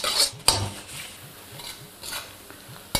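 Chopped ginger and garlic fry in oil over a medium flame while a utensil stirs them against the pan, giving repeated rhythmic scraping strokes over a soft sizzle, with a few sharp metallic clinks, close and fairly loud.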